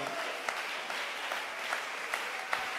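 Congregation applause in a church service, continuous crowd clapping with a few sharper individual claps standing out, moderately loud and free of speech.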